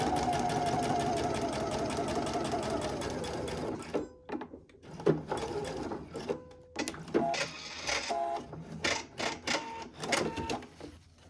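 A sewing machine stitches fabric piping with a regular-length stitch, running in a fast continuous whir, then breaking into short stop-start bursts and clicks as it back-stitches, close-up with no voices.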